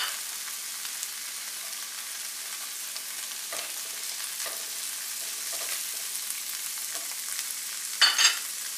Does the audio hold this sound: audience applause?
no